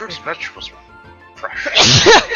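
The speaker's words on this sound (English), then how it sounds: "How dare you sneeze" A sneeze bursts out loudly near the end during a tabletop Dungeons & Dragons game, following a stretch of spoken talk.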